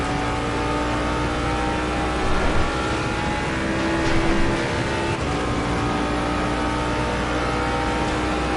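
Race car engine in a racing video game at Suzuka, a sustained loud whine and roar with small rises in revs around the middle, close and continuous without any talk.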